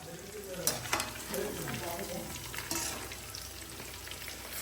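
Kebabs fry in a pan in a home kitchen, a steady close sizzle with a few stirring scrapes and louder pops early on.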